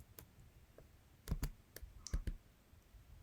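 A few light, dry taps on a phone screen while entering a recovery word in a crypto wallet app, scattered single clicks and short clusters, close and quiet with no speech.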